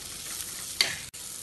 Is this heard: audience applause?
no